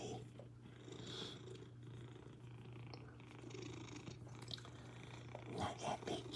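A big cat purrs steadily up close, a low continuous rumbling hum that carries on throughout at a quiet level, with small shuffling noises and no talking.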